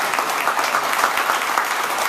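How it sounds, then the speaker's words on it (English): Warm applause from a crowd at a retirement celebration for a car dealership employee, steady and fairly close, filling the whole moment without a break. "That deserves a round of applause as well."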